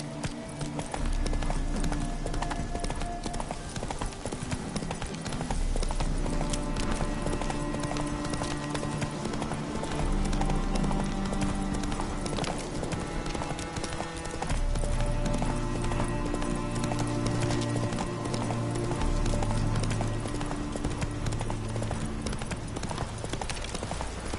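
Horse Roach galloping in The Witcher 3, a steady clip-clop of hooves running through the clip beneath a continuous orchestral game score, with an occasional faint voice.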